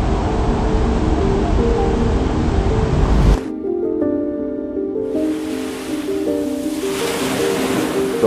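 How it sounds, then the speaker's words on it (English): Ocean waves on the shore of Aunuu, American Samoa, make a loud, continuous roar of surf that thins out briefly partway through and then swells back in. "The waves impact inside our island right now."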